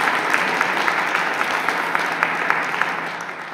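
Audience applause at an annual meeting, a steady wash of many hands clapping from a crowd, sustained and moderately loud with scattered sharper claps throughout.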